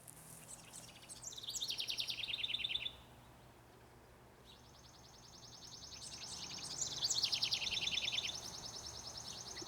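Faint birds chirping in a garden in quick, high trills, two bursts of song separated by a brief lull, with soft outdoor background hiss.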